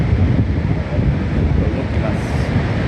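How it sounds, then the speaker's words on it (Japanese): The American Falls at Niagara Falls roars as a steady, dense broadband rush of falling water, continuous and fairly loud throughout, with wind buffeting the microphone and no clear voices. "左アメリカ滝です"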